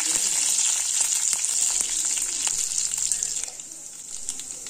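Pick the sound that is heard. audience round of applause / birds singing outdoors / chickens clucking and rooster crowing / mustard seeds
mustard seeds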